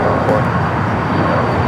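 An American Airlines Boeing 787 Dreamliner jet at LAX gives a steady, loud broadband roar with no break and no voices.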